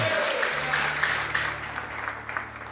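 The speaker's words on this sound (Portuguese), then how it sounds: "Aplauda dando glórias a Ele" Church congregation applauding in praise, a steady broad wash of clapping throughout with a low sustained tone beneath it.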